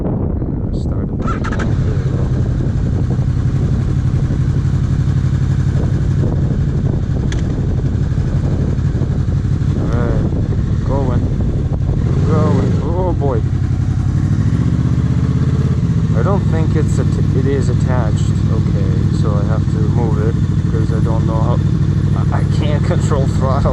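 Motorcycle engine starting and settling into a steady idle, then revving briefly midway before holding a constant hum, heard close, with someone talking intermittently throughout.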